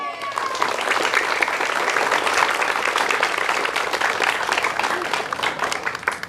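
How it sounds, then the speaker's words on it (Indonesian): A crowd of students and staff applauds at a school Independence Day flag ceremony in Surabaya, dense continuous clapping from many hands held at an even level throughout. "Tepuk tangannya mana?"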